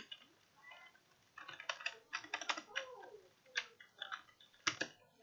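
Fast, crisp keystrokes on a computer keyboard, close and fairly quiet, coming in irregular bursts of clicks with brief pauses and no talking.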